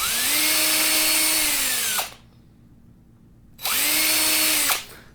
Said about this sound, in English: we're just going to go all the way along this, drilling out holes